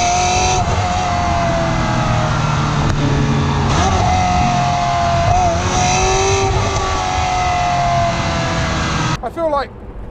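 A Ferrari F355 Spider V8 engine revs hard and loud with exhaust valves open, pitch rising and falling through gear changes, with a brief tire squeal near the end.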